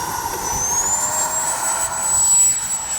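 Freewing 80mm F-22 RC model jet on its takeoff run down a runway in wind, the electric ducted fan a loud steady high whine rising slightly in pitch as it powers up and climbs away.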